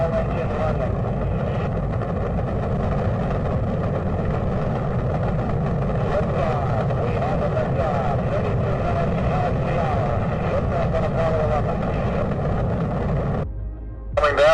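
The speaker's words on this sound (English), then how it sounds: "2, 1, 0, all engines running." Apollo 11 rocket engines roar at launch in 1969, a loud, steady, continuous rumble that holds for about thirteen seconds before briefly dropping away near the end.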